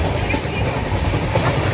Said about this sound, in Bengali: ঝড়ের গতিতে চলছে আমাদের ট্রেন চম্বল এক্সপ্রেস